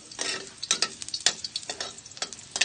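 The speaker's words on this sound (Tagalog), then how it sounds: "Hintayin lang natin maluto tong bawang." Garlic fries in hot oil in a pan with a bright, crackling sizzle, broken by repeated scrapes and taps as it is stirred.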